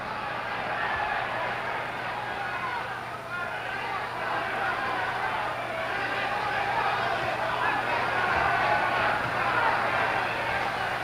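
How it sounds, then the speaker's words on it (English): A boxing arena crowd roars and screams in a sustained wash of noise late in the 8th round of Jimmy Carter vs Percy Bassett, with a commentator's voice talking over it throughout. "It's got the crowd screaming."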